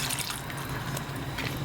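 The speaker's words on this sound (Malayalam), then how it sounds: "നമുക്ക് കുറച്ച് വെള്ളം ഒഴിക്കാം." Water trickles and splashes as it is poured into a clay pot of traditional Kerala-style fish curry, a brief, soft, steady pour with no talking.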